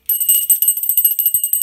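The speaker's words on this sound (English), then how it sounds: "I guess that's time to ring the bell." A school bell rings in one bright, rapid trill of quick repeated strikes. It is close and loud, lasts about a second and a half, and no one talks.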